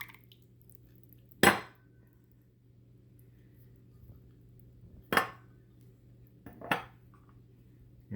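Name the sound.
stirring the mojo marinade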